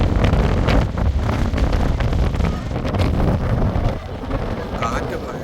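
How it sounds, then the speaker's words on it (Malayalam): Strong wind buffets the microphone at a mountain-top cable car station about 706 metres up in Langkawi, a loud, continuous broadband roar that dips slightly near the end. "കാറ്റ് ഭയങ്കരമായ കാറ്റ്."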